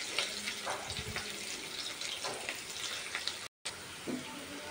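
Onions frying in a pan, a soft, steady sizzle with occasional light clatter and crackles, fairly quiet and with no one talking.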